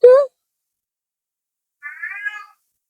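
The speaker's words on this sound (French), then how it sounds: "Désolée pour mes chats, comme d'habitude." Pet cats in a home meow twice: one short, sharp cry, then a longer, wavering meow about two seconds later, with near silence in between and no talking.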